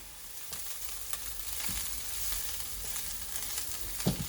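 Chopped onion with ginger garlic paste sizzles in a pan for a home-made rajma curry: a continuous hiss and crackle, with occasional scrapes and clanks of stirring close by.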